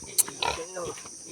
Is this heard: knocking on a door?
no